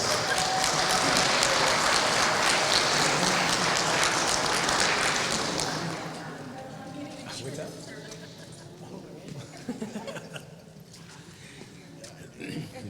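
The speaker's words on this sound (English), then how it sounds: "Round of applause." An audience at the Cowichan Tribes 2024 Chief and Council inauguration gives a steady round of applause for about six seconds. The clapping then thins to scattered claps and murmuring voices.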